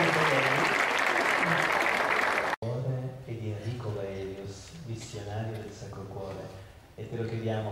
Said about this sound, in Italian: E adesso fatemi un applauso.